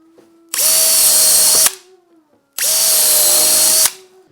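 A power drill twice drives a 1 5/8 inch coarse screw into a board. Each run is a loud, close whir of about a second that ends abruptly, with a short quiet gap between.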